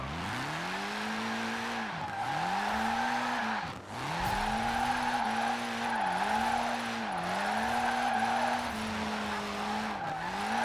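A car drifts in Forza Horizon 4, its engine holding a steady drone while the tires squeal in repeated sweeping arcs, swelling and dipping about once a second across the run, loud and close with no talk.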